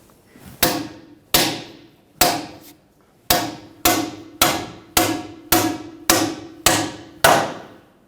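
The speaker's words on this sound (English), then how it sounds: "take a hammer, and we'll drive it in until it stops going in" Hammer blows driving a wheel bearing into the rear hub of a 2009-2011 Ford F-150: eleven sharp metallic strikes in steady rhythm, each ringing briefly, close and loud with no talking.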